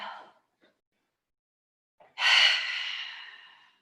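Pilates exercise breathing: a short breath at the start, a pause, then one long audible exhale that fades out slowly, close and alone.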